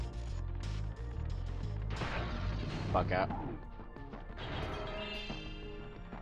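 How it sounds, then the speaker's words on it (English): Crashing and smashing impacts from little windmills being broken in Spyro the Dragon 2, a continuous clattering burst under game music, with a voice speaking briefly. "I'm smashing all these little windmills"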